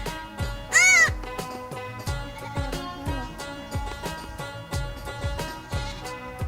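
A goat gives a single short, clear bleat in a village fishing spot, heard over steady rhythmic music with a thumping beat.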